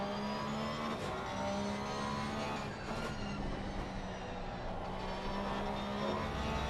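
A Lexus V8 race car engine in Assetto Corsa Competizione roars steadily throughout, with a sustained harmonic drone and rising and falling revs.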